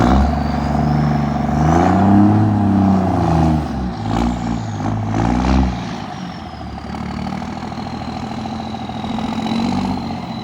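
A heavy truck revs hard while pulling a stuck truck free with a Rhino recovery rope out at a fishing spot. Engine tone rises and falls through several pulls over the first six seconds, then settles into a steadier, lower drone, close and loud.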